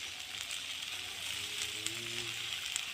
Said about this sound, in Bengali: এবার ডিমগুলো ভালো করে ভেজে নেব।